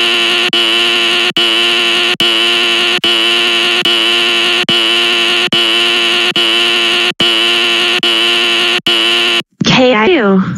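A loud, steady electronic fire alarm tone sounds in repeated long pulses separated by brief gaps, then stops abruptly and a voice follows.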